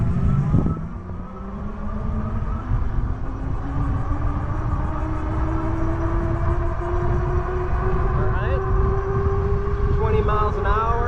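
A Tamobyke T73 Pro Max electric bike riding under throttle on its rear hub motor alone: a steady whine climbs slowly in pitch as it speeds up, over constant rushing wind noise.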